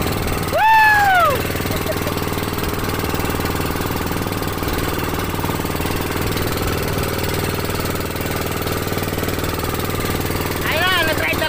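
Motorboat engine running on a boat ride in Bicol, a steady mid-pitched drone throughout, with voices and a brief whistle-like tone near the start.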